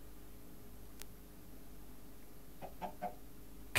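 A chicken in the video game Minecraft gives a few short clucks near the end, quiet against faint background hiss, with no talk.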